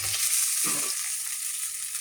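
Chicken pieces fry in oil in a wok, giving a steady close hiss of sizzling. A short scrape of a utensil against the pan cuts through near the start, and no voices are heard.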